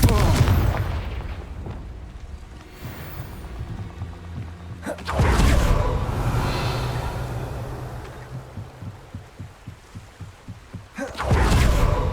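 A Confringo spell fires in the video game Hogwarts Legacy, giving deep booming blasts followed by a long rumbling decay and scattered thuds, with a second burst at the end.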